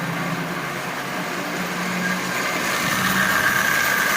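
A repaired, lubricated Marx 595 toy locomotive with a double reduction motor runs steadily, giving a continuous close-up mechanical hum and buzz that grows slightly louder toward the end, with no voices.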